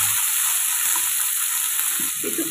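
Chopped potatoes, three large ones cut into small pieces, frying with green chili in hot oil, giving a steady, loud, broadband sizzle that holds without a break, with a few soft clinks low under it and no voices.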